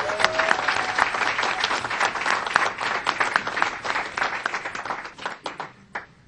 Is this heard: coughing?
no